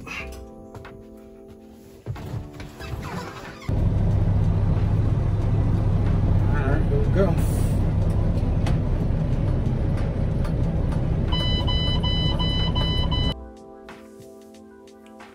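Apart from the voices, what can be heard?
dump truck engine driving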